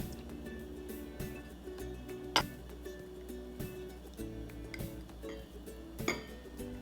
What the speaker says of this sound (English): To make the dressing, mix together all the seasonings.